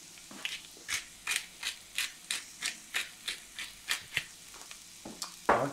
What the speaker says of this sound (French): On va venir poivrer.